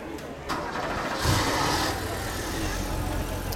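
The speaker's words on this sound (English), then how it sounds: "You can crank this car." A 1950 Morris Minor Tourer convertible engine cranks briefly, then catches and settles into a steady, close, low idle.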